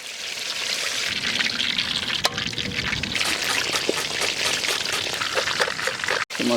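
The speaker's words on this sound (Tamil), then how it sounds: "வாழைப்பழம் வறுத்தாச்சு பாய்" Banana bondas sizzle steadily in hot oil in a village kitchen, a dense continuous crackle and hiss that carries close and loud throughout, with a few brief sharper pops and no speech over it.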